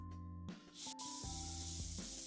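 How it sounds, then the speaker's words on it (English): An airbrush sprays paint onto a model in a steady, loud hiss. A short burst is followed by a longer continuous spray with a faint mechanical hum underneath. "This one's definitely spraying a lot easier."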